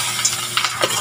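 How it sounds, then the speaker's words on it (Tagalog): Small anchovies hiss and crackle as they fry in hot oil, a brief close sizzle with light stirring clicks and no voices. "Pisahan ko na mag-prito."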